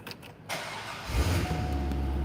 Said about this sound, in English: It does have MagnaFlow exhaust. Oh, let's hear it.